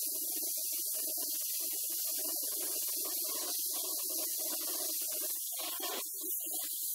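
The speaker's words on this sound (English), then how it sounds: "fuse welding the two pieces of 1/4-inch mild steel together" An oxy-acetylene torch fuse-welds two pieces of 1/4-inch mild steel, a steady close hiss of flame holding evenly throughout, with a faint bubbling crackle underneath.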